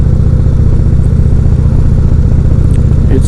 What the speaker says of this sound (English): their Thunderstroke 111 engine. Really enjoying it. It's quite a very smooth ride, well balanced.